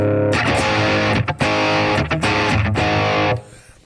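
Heavily distorted electric guitar chords played loud through a BIAS Head amp model with a gritty tone, a few brief breaks between strums before ringing out and stopping.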